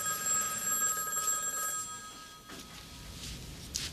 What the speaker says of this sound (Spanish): ¿No va a contestar el teléfono, señora?